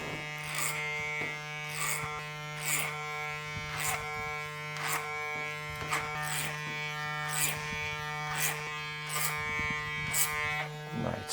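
Electric hair clippers with a half guard, open, cutting a skin taper fade, hum steadily close by while strokes repeat at regular intervals as the blade works up and off the head.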